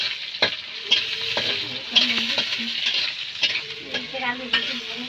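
Onions and chillies fry in a pan with brisk stirring, bright sizzling broken by repeated metallic scrapes and knocks of the utensil, close and fairly loud.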